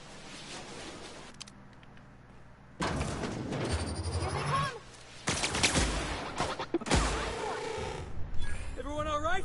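Gunfire at a robot in The Outer Worlds, several loud bursts of shots and impacts in separate bouts, mixed with a voice talking and electronic whirring noises.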